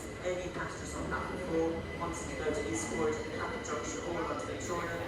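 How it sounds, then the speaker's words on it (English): A Thameslink train rolls through an underground station beneath Gatwick airport, a low steady rumble with faint wheel noise, heard at moderate distance under scattered crowd chatter. "Here is one of the trains going by in the station."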